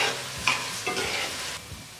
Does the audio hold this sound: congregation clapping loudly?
no